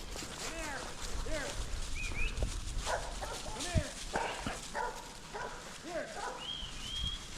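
Cattle dogs bark repeatedly while pushing cattle through rough country on a foggy morning, mid-distance barks in irregular bursts with cattle and outdoor rustling, and occasional voices in the background.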